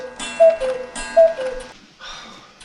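A clock ticks and clicks in a few loud, close bursts with short ringing tones between them, followed by a softer rustle, with no talking.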